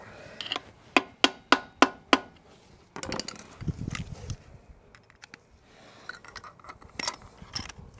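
A tool working a bolt on a Nissan Patrol Y60/Y61 wheel hub during a bearing job, starting with five sharp, evenly spaced metallic knocks, then softer scattered clanks and rattles of parts, no speech.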